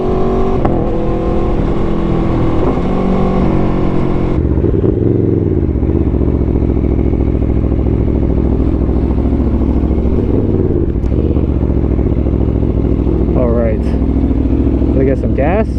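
An Aprilia Tuono V4 Factory 1000cc motorcycle engine rumbles loud and close, a continuous deep throb that idles and then shifts pitch with gentle revs.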